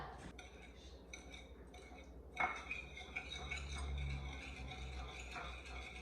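Seasoned egg mixture with pepper whisked in a bowl, soft quick clinks and rattles of a utensil against the dish, quiet and close over low background hum.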